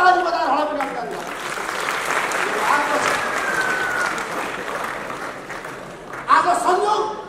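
An audience claps in welcome for Mahantha Thakur, executive chairman of the Janata Samajbadi Party, at a political gathering in Nepal. Steady, dense applause runs throughout the clip, with a brief swell near the end and voices faintly mixed in.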